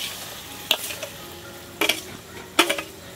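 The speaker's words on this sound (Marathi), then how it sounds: "आता लोणचं कढईमध्ये शिजायसाठी टाकून देते मी" Sweet mango pickle cooking in a kadhai, with three sharp scraping clinks of a spoon against the pan at spaced intervals over a soft, low background hiss.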